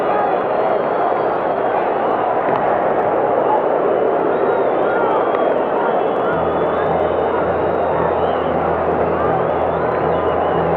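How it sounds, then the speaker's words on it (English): A capacity crowd fills Veterans Stadium in Philadelphia for a 1980 World Series game, a steady, dense murmur of thousands of fans spread far and wide, with a low hum entering partway through and no distinct cheer rising out of it. "Capacity crowd in the Veterans Stadium in Philadelphia."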